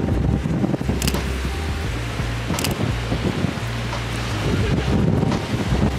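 Strong wind buffets a microphone outdoors in Turkey, a continuous loud rumbling roar with irregular gusts and a few brief sharp crackles, with no voice over it.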